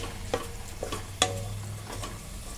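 Vegetable fried rice with soy sauce and ketchup being stirred in a hot pan, soft sizzling under a few sharp scraping and clinking strokes of a spoon, close and quiet with no talk.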